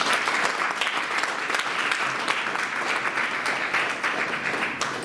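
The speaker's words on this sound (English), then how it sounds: "So I want to have a nice round of applause to welcome Mr. John Abdou." An audience at a talk on college recruitment of student athletes breaks into loud, sustained applause to welcome the speaker. The clapping is dense and continuous, fading slightly toward the end.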